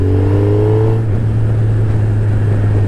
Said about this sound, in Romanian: Are și sunetul ăla de mașină pe benzină, știi? Dar astea probabil din cauza tobelor care sunt super interesante, tobe Remus.